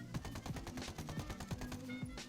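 Rapid gunfire from a weapon in the video game Ghost Recon Wildlands: a fast, rhythmic burst of about seven sharp shots over two seconds, moderately quiet and with no talk.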